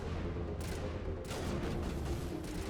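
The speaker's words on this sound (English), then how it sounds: "Oh man, they're shooting me from a distance." Enemy Geth gunfire in the Mass Effect video game, a few dull bursts from a distance over a constant dense rumble of background noise, no talking.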